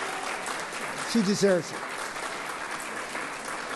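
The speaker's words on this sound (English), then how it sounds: "warm round of applause" Applause from the audience at the opening ceremony of an art exhibition, a sustained steady round of many hands from a crowded room, with a brief spoken remark heard over it midway.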